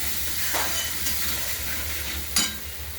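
Spice masala fries gently in oil over a low gas flame, a soft, quiet hiss broken by two brief stirring scrapes.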